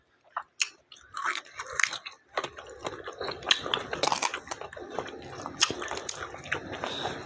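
Someone chewing Thai papaya salad (som tam), with close, crunchy bites and wet mastication that keep up a steady, irregular rhythm.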